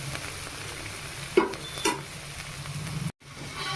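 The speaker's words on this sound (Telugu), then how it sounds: "అల్లం వెల్లిపాయ పేస్ట్ పచ్చివాసన పోయేదాకా ఫ్రై చేసుకోవాలి." Ginger garlic paste frying in a pan for a chicken gongura curry, giving a steady low sizzle with a couple of brief stirring scrapes and a sudden short cut near the end.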